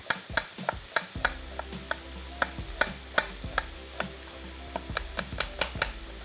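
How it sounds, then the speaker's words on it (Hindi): A medium onion is sliced and roughly chopped on a board, giving a run of crisp knife knocks at an uneven, brisk pace, close and clear with no talking. "स्लाइस करके और थोड़ा सा रफली सा चॉप कर लेंगे"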